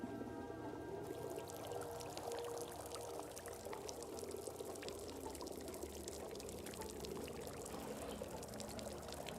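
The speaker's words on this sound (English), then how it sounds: "Just douse it in water." Water pours steadily over tea leaves for cold brewing, a continuous splashing stream running the whole time at moderate level with no talk.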